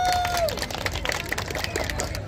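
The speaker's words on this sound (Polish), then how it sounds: "Duże brawa!" Crowd clapping steadily at a village harvest festival and bread festival in Sękowa, a dense, continuous patter of applause lasting a couple of seconds, with a faint whistle-like tone at the start.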